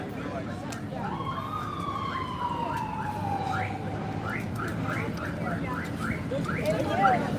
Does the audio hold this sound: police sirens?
yes